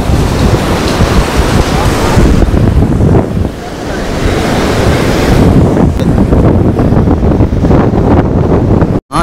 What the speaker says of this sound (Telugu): చాలా దగ్గరగా వస్తున్నాయి నీళ్ళు చూడండి